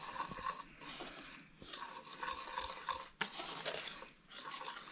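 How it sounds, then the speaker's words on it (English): Whisk stirring a citrus glaze of sugar and orange juice in a bowl for cranberry orange scones, a steady scraping, rattling swish running continuously at close range with brief pauses, no talking. "And a little whisk. We're going to make the glaze."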